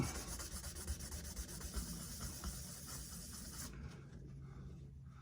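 Close, steady rubbing and scrubbing on the nut of a Taylor acoustic guitar, a continuous dry friction hiss that stops abruptly near the end.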